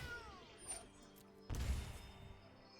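A cat meows in a digital card game, a short synthetic meow with a rising tone early on, then a louder impact-like burst near the middle, heard alone without talk.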